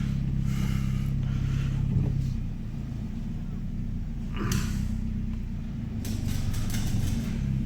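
A Vauxhall VXR's B204 engine rumbles steadily at low speed nearby as the car drives into a garage, with a few brief rattles and hisses over the motor's drone.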